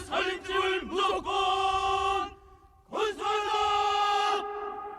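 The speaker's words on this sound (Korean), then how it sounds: "건설 노동자와 군인들이 자력갱생, 이민 위천 등의 글씨가 쓰인 깃발을 흔들며 함성을 외칩니다" Construction workers and soldiers waving flags raise loud, sustained massed shouts of cheering in two long bursts with a short lull between, sounding like a large chanting crowd outdoors.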